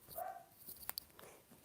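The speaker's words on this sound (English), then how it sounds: "my dog is going mad" A dog barks indoors in a few short, faint yips and barks, well away from the listener, with quiet room noise between them.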